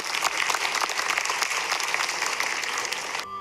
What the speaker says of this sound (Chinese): 是我们用掌声再次感谢各位志工